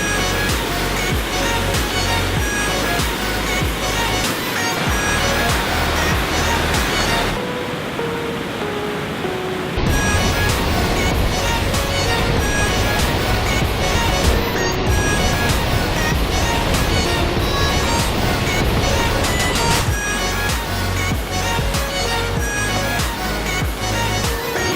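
A waterfall near a swimming hole in the Ladysmith, BC area roars as a steady, loud broadband rush of falling water, continuous and close throughout with little variation.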